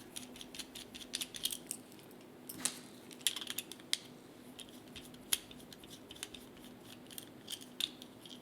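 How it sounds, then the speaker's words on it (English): Small chest screws being unscrewed from a Fansproject M3 toy robot figure, a quiet run of close, faint ticking and clicking from the screwdriver and plastic parts. "you first take and you unscrew his chest here"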